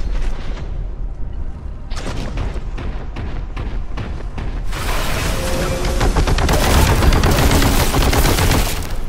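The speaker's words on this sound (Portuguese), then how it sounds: "Vou gastar a granada do vórtice aqui." A vortex grenade goes off in Warhammer 40k: Boltgun after rapid gunfire bursts. Midway the sound swells into a loud, sustained roaring blast that dominates the rest of the clip.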